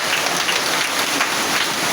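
A church congregation at a Pentecost service applauds and cheers for Jesus, producing dense, continuous clapping that fills the space at high volume, with no speech over it.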